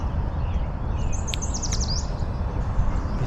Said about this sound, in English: I know there's a yellow warbler in this bush.